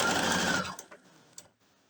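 A sewing machine runs a quick burst of stitching on quilt pieces, loud and close, then stops abruptly, leaving a few small clicks and handling noises.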